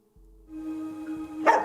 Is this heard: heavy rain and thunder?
no